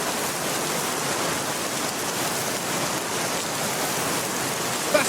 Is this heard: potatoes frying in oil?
no